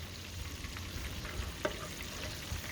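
Shrimp frying in pans of hot oil: a steady, dense sizzle close by, with a few faint clicks and small pops and no talk.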